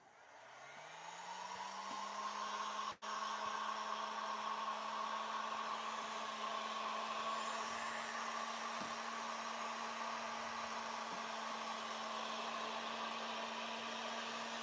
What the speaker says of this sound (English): Stand by for heat shrink gun noise.